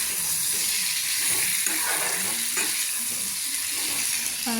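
A steady, close sizzle of papaya and potato curry frying in oil, with occasional stirring scrapes and soft hissing throughout.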